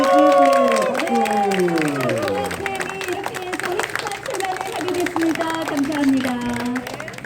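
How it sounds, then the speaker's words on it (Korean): Audience applause fills the room at a launch ceremony for a Korean-Russian community FM radio station after a ribbon cutting, steady clapping mixed with crowd babble and voices, loud at first and then settling into a continuous murmur. "박수"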